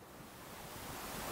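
Sea waves hitting a concrete seawall on Pantura beach with strong wind, a steady broadband roar of surf and wind noise that builds slightly, with no talk.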